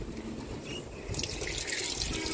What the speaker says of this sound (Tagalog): tubig lang katapat niya kasi ayun, so mag-water, in-water ko lang yung mga plants dito banda